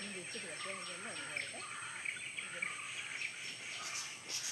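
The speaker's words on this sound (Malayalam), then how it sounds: "എൻ്റെ ചുറ്റും കുറേ കിളികളൊക്കെ ഉണ്ട് കേട്ടോ" Birds call around an outdoor spot while crickets chirr steadily. The birds give faint scattered chirps and short warbles over a soft, continuous insect trill, and the whole scene is quiet and distant.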